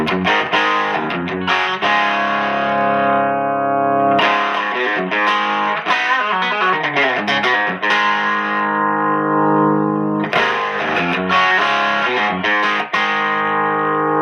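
H&K StompMan amp pedal with its resonance control adjusted, producing loud distorted electric guitar chords and riffs with sustained ringing passages, close and alone with no talk.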